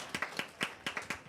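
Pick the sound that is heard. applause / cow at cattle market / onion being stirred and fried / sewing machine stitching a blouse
applause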